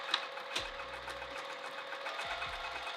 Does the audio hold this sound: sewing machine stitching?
yes